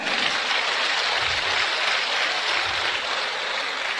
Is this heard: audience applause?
yes